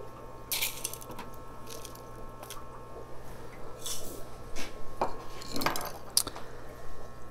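Light metallic scrapes and soft taps of a measuring spoon adding fluorite into a potting soil mix with perlite, a few scattered clinks and gritty shuffles over a quiet hum.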